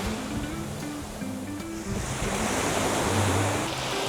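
Ocean surf rolls in on Bharatpur Beach, Neil Island, a loud, continuous wash of breaking waves mixed with wind buffeting the microphone, no voices.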